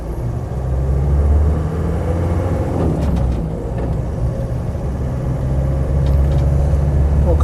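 Green Land Rover 90 hardtop with a 2.5 turbo diesel engine, 156,000 miles, running with a steady, loud, rough low rumble and throb close by.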